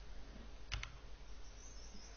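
A computer mouse gives a single quick double-tick click against a faint steady hum, alone and close.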